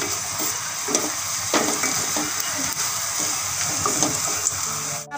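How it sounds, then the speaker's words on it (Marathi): Onions and turmeric sautéing in a pan for kande pohe, a steady close sizzle with soft scraping stirs every second or so, moderately loud throughout. "हळद टाकून आपल्याला पुन्हा थोडा वेळ परतून घ्यायचा आहे याला"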